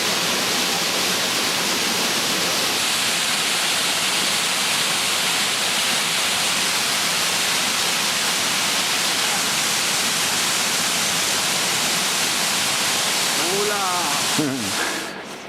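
A waterfall cascade on the Inca trail in Peru gives a steady, broadband rushing roar that stays constant and close throughout. A brief voice-like sound rises near the end.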